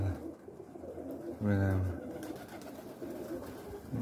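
A pigeon being fed gives one loud, close, throaty coo amid outdoor rustling while people talk nearby.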